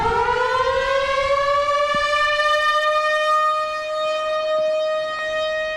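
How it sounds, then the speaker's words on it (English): A loud, obsolete outdoor warning siren in Yellowstone County wails steadily, its tone rising at the start and then holding with a slow, droning pitch across the whole stretch. "If you were hearing sirens in Yellowstone County last night"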